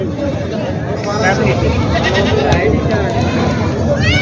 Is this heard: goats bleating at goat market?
yes